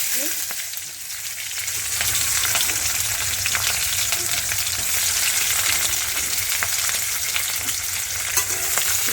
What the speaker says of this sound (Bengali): তেলের উপরে পেঁয়াজ কুচানোগুলো দিচ্ছি